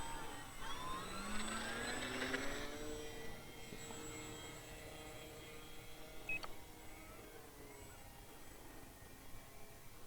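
A Volantex Saber 920 3D EPO foam RC plane takes off on a calm day, its electric motor whining steadily and fairly loud throughout, with rising tonal sweeps early on and a brief beep near the middle.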